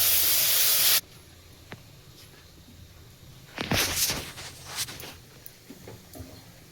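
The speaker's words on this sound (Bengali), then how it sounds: "চিংড়ি মাছ ঝোলে দিয়ে দিলাম।" Prawns sizzling as they go into curry gravy for a Bengali prawn malai curry, a close hissing spray that flares briefly after a loud burst at the start, then settles into a low, uneven sizzle.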